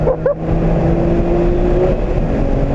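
A BMW M3 on a race track roars at full throttle, a loud, sustained engine note holding a steady pitch over wind and road rumble, with a brief lull near the start.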